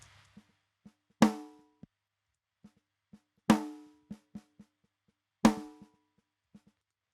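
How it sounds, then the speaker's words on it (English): Snare drum in a prog-style drum mix, heard dry without an EQ boost, cracking out three sharp loud hits spaced about two seconds apart, with softer ghost notes tapping quietly in between; no voices. "So without this EQ, it sounds like this."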